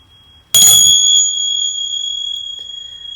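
A single bell strikes sharply and rings on with a bright, sustained tone that slowly fades over about three seconds, heard alone and close with no talking.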